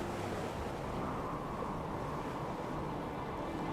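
Ocean waves in the video game Stormworks, a continuous rolling wash of surf with steady low rumble and wind noise, loud and unbroken with no voices.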